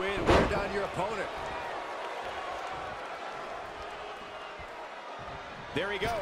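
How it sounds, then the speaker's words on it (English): A WWE 2K20 wrestler crashes to the floor with a loud slam near the start, followed by steady crowd noise and commentary voices throughout, with another impact burst near the end. "There he goes, crashing to the floor."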